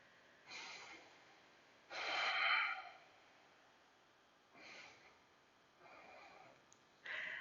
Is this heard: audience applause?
no